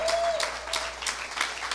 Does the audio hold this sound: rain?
no